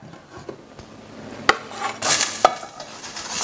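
Garlic going into hot olive oil in a heated pan, with escarole and beans to follow, gives a close utensil clatter and two sharp clinks, then a bright sizzle that rises and holds steadily until the end.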